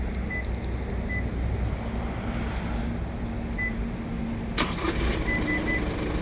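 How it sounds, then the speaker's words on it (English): A 2023 Isuzu D-Max X-Terrain pickup fired up by remote start from the key fob, with steady engine rumble throughout and a sharper burst near the end as it catches and runs, heard up close outdoors. "it's called a remote start, so it's going to start up that car"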